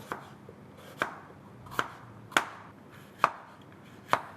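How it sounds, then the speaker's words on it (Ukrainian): A knife thinly slicing sweet pepper on a cutting board, six sharp, evenly spaced chops with brief pauses between, close and clear, no voices. "Також тонко нарізаю солодкий перець."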